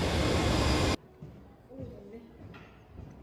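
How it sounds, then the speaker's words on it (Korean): A subway train roars loudly into the station for about a second, then cuts off abruptly, leaving quieter platform ambience with faint voices and a few squeaks and clatters. "지하철이 오네요"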